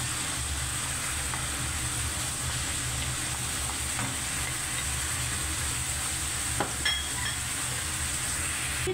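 Fresh tomato fries in hot oil in a pan for spicy macaroni pasta, giving a steady, even sizzle throughout with a few faint clicks of stirring.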